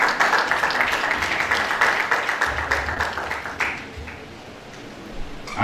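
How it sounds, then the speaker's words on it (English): Audience applause at an event at Chrisland, a crowd clapping steadily and fairly close for several seconds before fading out. "A round of applause for him."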